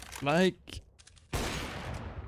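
Counter-Strike gunfire from flick shots: a brief voice comes first, then a loud burst of shots that carries on for about a second.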